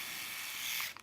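A Fiske electric shaver with its trimming attachment buzzes in a steady, near, high-pitched whir for about a second, then cuts off with a few small clicks.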